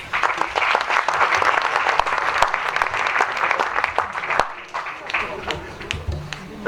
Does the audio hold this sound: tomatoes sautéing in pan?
no